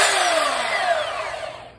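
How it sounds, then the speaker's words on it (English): A power sander with 80 grit sandpaper sanding a new deck whirs loudly and steadily nearby, its pitch sweeping slightly as it runs, then winding down and fading out. "This is the sander."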